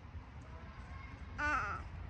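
A young child gives a brief high-pitched "caw" imitating a crow, close and soft against a quiet room hum.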